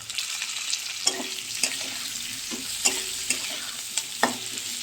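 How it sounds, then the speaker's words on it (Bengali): Steady frying sizzle of onion and green chili in a pan, punctuated by periodic scraping clinks of a utensil stirring, with no talking. "এটা একটু ভাজা ভাজা হোক পেঁয়াজটা"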